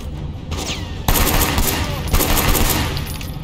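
Dense gunfire in the open-world action game Sleeping Dogs: a rattling volley that jumps louder at about one second and keeps up sustained rapid shots, with only a faint voice underneath.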